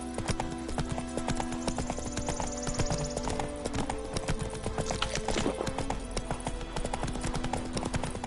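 Horse galloping in The Witcher 3, a rapid steady clip-clop of hooves running continuously and close, with game ambience behind and no talk.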